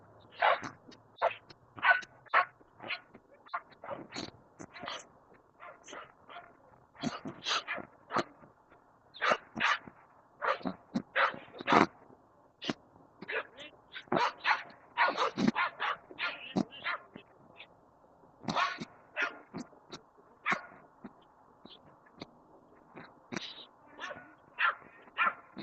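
A dog barks repeatedly on a walking trail in Columbus, a steady run of sharp barks mixed with yips and whimpers, fairly close and loud against a quiet background.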